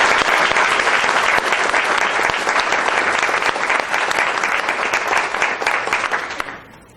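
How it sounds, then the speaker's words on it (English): A picnic gathering crowd gives the committee a loud, sustained round of applause, many hands clapping together in a thick, even wash before fading out at the very end. "give again a round of applause"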